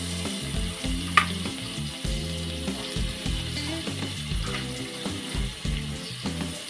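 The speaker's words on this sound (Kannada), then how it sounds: "ಈ ಜೀರಿಗೆ ಸಾಸಿವೆ ಹಾಕಿದ ನಂತರ ನೀವು ಇದಕ್ಕೆ ಪಾಲಕ್ ಹಾಕ್ಬಿಡಿ" Spinach dropped into a hot tempering of cumin and mustard seeds for palak sambar, sizzling and frying steadily up close with some stirring clatter, no talk.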